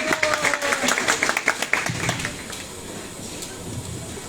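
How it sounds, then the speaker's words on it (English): Students in a small classroom of about eight people clap for one another, a brief burst of scattered hand claps that is loudest in the first two seconds and then thins into softer, sparse claps. "Everybody give each other applause."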